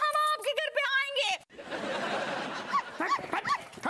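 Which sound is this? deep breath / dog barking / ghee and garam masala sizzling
dog barking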